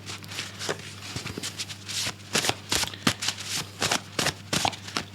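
Oracle cards being shuffled by hand, a close, steady run of crisp riffling snaps and soft slides repeating in quick irregular bursts over a low constant hum, with no talking.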